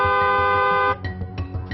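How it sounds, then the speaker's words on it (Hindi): A vehicle horn blares in one loud, steady, continuous tone for nearly a second, then cuts off, leaving faint street noise. "इसलिए हॉर्न जरूर बजाएं"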